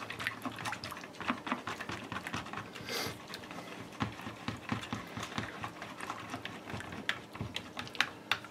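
A spoon stirs tortelloni sauce, seasoned with pepper, in a pan, making a close, steady run of quick clicks and scrapes that keep a constant rhythm with no voices.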